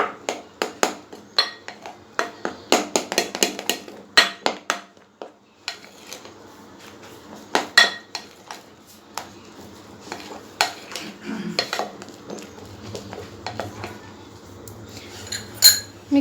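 A metal spoon stirs and scrapes a salad with mayonnaise and black pepper in a bowl, a run of close clinks and taps that thin out into softer scraping, with no talk.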